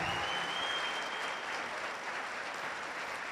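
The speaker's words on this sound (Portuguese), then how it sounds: "Eu gostaria que você aplaudisse a Nutri Lorraine Targa, por favor" A studio audience applauding a nutritionist at a health talk: dense, steady clapping that holds at an even level throughout, with a faint tone running underneath.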